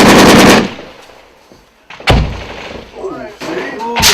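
Sharp gunshots crack out during a firefight between Marines and Taliban fighters, with a loud burst at the start and another single shot mid-clip, followed by distant echoing fire and faint talk.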